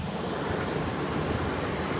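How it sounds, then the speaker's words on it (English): Running, crashing water near Stumpcross Caverns in North Yorkshire, a continuous broadband rush like a stream or small waterfall, loud and steady with some wind buffeting the microphone and no speech. "So we've just heard sound of running water, crashing water."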